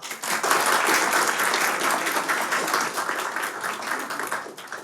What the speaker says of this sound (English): So give a huge round of applause for Ma'am Shivangi Narula.